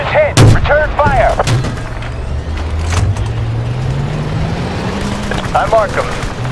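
Gunfire and incoming artillery fire in the Battlefield: Bad Company 2 video game: loud sharp shots early, then a long low rumbling roar with further blasts near the end, under shouted voices.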